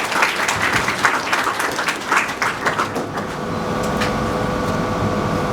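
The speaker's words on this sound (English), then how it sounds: "Give me a round of applause." Graduation audience applauding in a hall, a dense patter of clapping that fades into steady room noise after about three seconds.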